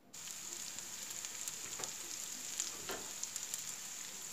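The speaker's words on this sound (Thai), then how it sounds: "ผัดกะเพรากุ้งค่ะ" Shrimp stir-fried in a hot pan with holy basil, chili and egg sizzles steadily, with a few soft scraping stirs breaking through the continuous frying hiss.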